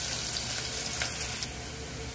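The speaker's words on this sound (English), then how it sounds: "sasa na huku nako tunakaanga sosi yetu" Tomato-based sauce for baked mince macaroni sizzles and fries in a pan, a steady close crackling hiss with faint stirring clicks throughout.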